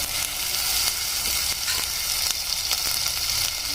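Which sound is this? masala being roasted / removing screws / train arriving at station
masala being roasted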